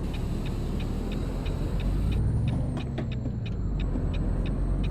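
Heavy truck making a hill start in American Truck Simulator: a steady low engine rumble with a hiss of air release and a repeating soft ticking, heard alone with no talk.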